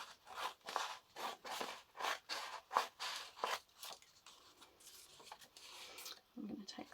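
Scissors or a blade cut paper pages for a mini junk-journal notebook, a quiet series of rhythmic rasping snips close by, fading into softer rustling near the end.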